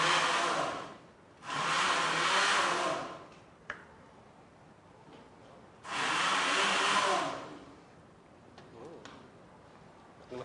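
A kitchen blender runs in two loud bursts of about two seconds each, blending ingredients for asam pedas with stingray, separated by quieter gaps with small clicks and handling noises.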